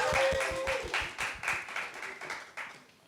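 Audience applause at a panel discussion: a crowd claps steadily and loudly at first, then the clapping thins and fades over about three seconds.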